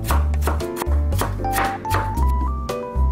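A knife chops peeled apple into small pieces on a cutting board, with a steady run of close, firm thunks and brief pauses between them, set against a background tune and no talking.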